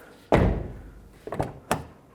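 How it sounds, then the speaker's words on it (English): A 2002-06 Toyota Camry car door being shut after a door handle replacement: one solid close thunk, then two lighter knocks as the latch settles, with no talking. "Close the door."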